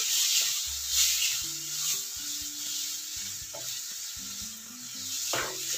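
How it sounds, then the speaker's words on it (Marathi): Roasted brinjal bharit is stirred in a pan over a low flame, with a soft, steady sizzle and occasional scraping strokes close by. "लो फ्लेमवर आपल्याला हे सर्व मिक्स करून घ्यायचं"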